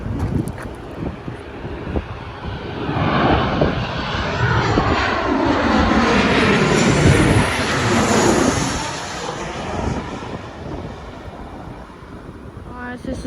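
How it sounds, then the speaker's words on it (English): A Virgin Boeing 737-8FE jet from Queenstown at Melbourne airport gives a loud, sustained engine roar that swells and fades as it passes, with wind buffeting the microphone. "This one is a Virgin Flight VA146 coming from Queenstown, New Zealand, model 7378FE."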